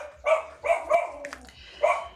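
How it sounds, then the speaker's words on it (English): Dogs bark and yip in short bursts of three or four close, loud calls, heard alone indoors during a mixed-media art livestream. "Sorry, that's my dogs."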